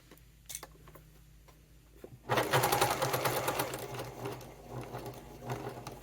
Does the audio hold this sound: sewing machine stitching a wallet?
yes